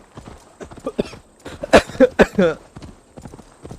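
Rhythmic clip-clop of horse hooves in the video game Assassin's Creed Valhalla, moderately loud and close, with a few louder clustered strikes in the middle.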